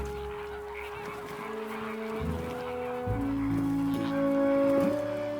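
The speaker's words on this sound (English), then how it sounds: "Flamingos are among the most sociable birds on Earth." A flock of flamingos in the wild in Italy sounds loud, goose-like honking calls that overlap and repeat in a busy chorus over faint rustling.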